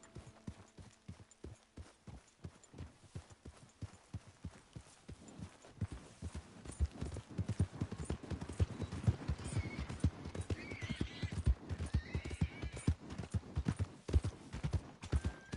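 In the video game Red Dead Redemption 2, hooves clop in a steady, quickening rhythm that grows louder as a horse approaches, with a faint neigh partway through.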